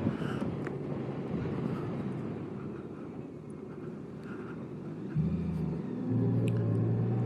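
A 2018 Honda Goldwing motorcycle engine while riding, heard as a low, continuous rumble mixed with wind, the pitch shifting slightly partway through as the engine note rises.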